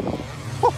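Brief snarl of a 500cc motocross motorcycle engine revving hard during a race, heard at a distance over the general din of the track.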